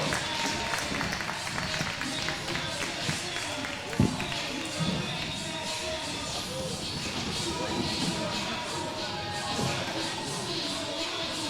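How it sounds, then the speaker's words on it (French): Audience applause for two riders at a youth qualification competition, a continuous dense wash of clapping from a sizeable crowd that runs evenly throughout, with a brief thump near the middle. "Applaudissements pour Valentine et Lilo."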